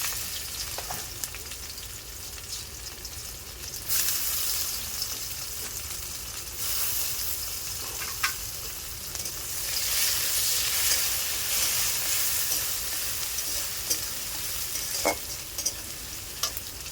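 Chopped garlic, dried red chillies and onion frying in hot oil: a strong, continuous sizzle that swells and fades, broken by occasional scrapes and taps of a spatula, close and with no talk.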